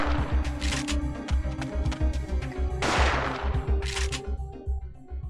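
Shotgun fire in the game Parasite Eve 2, a rapid run of loud, punchy blasts repeating at a steady rhythm, with a burst of heavier noise partway through.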